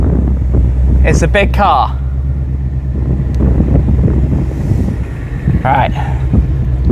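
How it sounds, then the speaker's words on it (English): Outdoor wind buffets the microphone with a low rumbling roar throughout, beside a car, while people talk over it. "it's windy out here"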